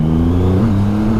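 The 2.5-litre three-cylinder engine of a Triumph Rocket 3 GT motorcycle revs hard on the road, a loud steady growl rising slightly in pitch, close up with no talking.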